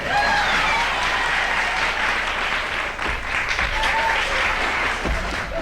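A television studio audience on a 1970 talk show applauds loudly, a thick, sustained wash of clapping from a full crowd with no break across the whole stretch.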